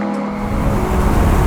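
A car engine revs hard into VTEC and climbs in pitch, the loud mechanical note rising steadily with no voices over it.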